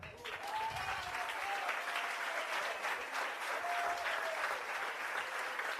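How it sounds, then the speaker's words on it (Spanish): A large audience at a youth conference claps steadily and evenly for several seconds, a dense wash of applause in a hall with faint voices mixed in. "Denle un aplauso al Señor"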